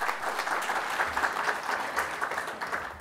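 An audience at a Patanjali Ayurveda event breaks into continuous, dense applause, a steady crowd of clapping hands that lasts the full few seconds with no voices over it.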